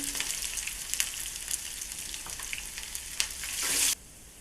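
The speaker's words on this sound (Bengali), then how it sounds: "ফোড়নে আমি রসুন দিলাম, 3টে শুকনো লঙ্কা দিলাম" Garlic and three dried red chillies sizzle in two spoonfuls of hot ghee for a tadka, a close, steady crackling fry that flares into a brief loud hiss near the end before cutting off.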